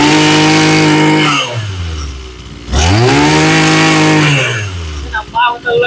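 Gasoline grass cutter engine running loud and close, revving up and down in smooth rising and falling sweeps with steady idle between.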